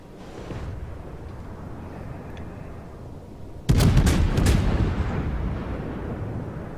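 Naval guns fire in the World of Warships video game: a sudden heavy boom hits midway, followed by several sharp shots and a rumbling decay over a constant low battle drone.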